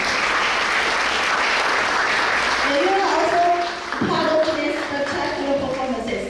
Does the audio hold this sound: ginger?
no